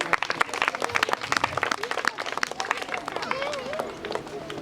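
An audience at a school prize event gives patchy, spirited clapping that thins out, with scattered voices and chatter throughout.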